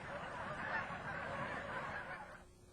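Canada geese honk and chatter as a dense, continuous flock murmur at moderate distance, steady throughout before fading near the end.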